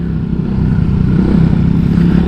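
A Honda Vario 160 ABS scooter's 160 cc engine idles steadily up close, a low, even putter with a faint mechanical rattle.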